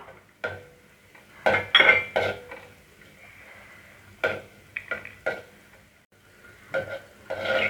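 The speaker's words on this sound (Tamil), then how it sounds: "இப்போ நம்ம இந்த இருக்கிற நெய்யிலே முந்திரி பருப்பை ரோஸ்ட் பண்ணி எடுத்துப்போம்" Cashew nuts roasting in ghee in a pan, with intermittent scraping and clinking of a spoon against metal, some strokes louder than others, and light sizzling in between, close by with no talking.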